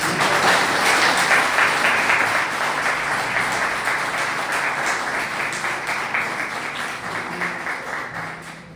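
Sustained applause from a large church congregation fills the room, dense steady clapping that slowly thins toward the end, with no talking over it.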